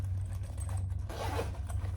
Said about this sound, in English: on the other side, you have a zipper pocket